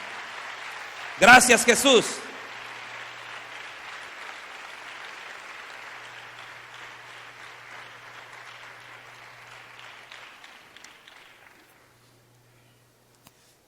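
A church congregation claps after a sermon cue, a loud dense burst that fades into a long softer patter over about ten seconds while a preacher speaks briefly.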